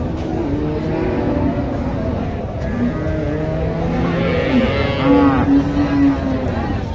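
Sahiwal cow and calf at a busy cattle market, lowing with drawn-out moos over a constant crowd hubbub, with people talking throughout and a louder call near the end.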